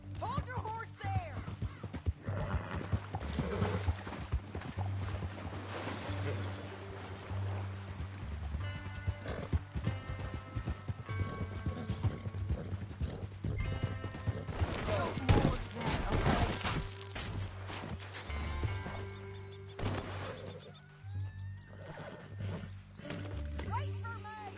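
Steady clip-clop of a horse's hooves at a run in Red Dead Redemption 2, with occasional whinnies, set against looping game music and speaking voices.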